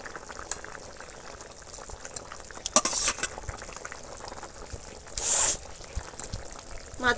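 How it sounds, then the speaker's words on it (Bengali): Fish curry broth boiling in a pan, a quiet steady bubbling simmer with a couple of brief louder hissy bursts, no talking. "ঝোল বেশ ভালোভাবেই একদম ফুটছে।"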